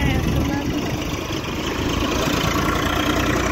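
A scooter engine idles with a steady, close, droning rumble that holds evenly throughout.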